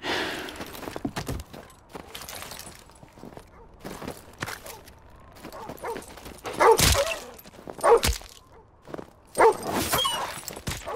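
Patrol dogs barking in Modern Warfare 2 Remastered: several loud, sharp barks and yips come in irregular bursts over a busy game soundscape with footsteps and movement.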